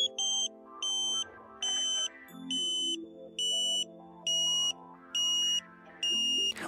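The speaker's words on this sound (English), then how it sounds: "When you hear the tone drop, change direction." Satellite dish alignment meter on a Ka-Sat mid pole mount sounds a series of eight evenly spaced high electronic beeps, about one every second, fairly faint, over a low steady hum.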